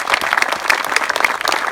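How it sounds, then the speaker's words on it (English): Dense, lively applause from a crowd at a community garden opening, continuous close clapping with no pauses, heard alone. "To anyone that's got a round of applause for the volunteers,"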